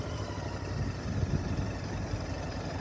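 A motorcycle engine idles steadily with a low, even rumble, continuous and close by, with no voices.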